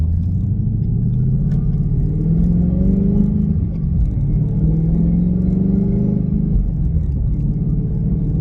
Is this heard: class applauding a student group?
no